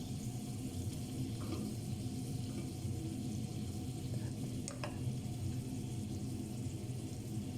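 Red rice cooked with tomato paste is stirred in a pan, producing a faint, steady low sizzle with light scraping and occasional utensil clicks and no voices.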